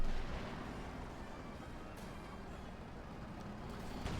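A rumbling battle scene from Company of Heroes 2 in which a Panther tank's cannon fires at a Sherman, with a dense low roar and booming impacts. No voices are present.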